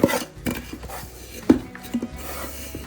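Grated potato and bran are mixed by hand in a pot, giving soft, uneven scraping and rubbing sounds with a few sharper knocks against the container, close and fairly quiet.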